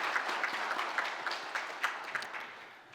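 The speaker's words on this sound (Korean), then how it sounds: "이 귀한 찬양 받으신 하나님 앞에 감사와 찬양의 박수를 드리겠습니다." Steady applause from a church congregation during a Sunday service, fairly distant and even, gradually fading toward the end.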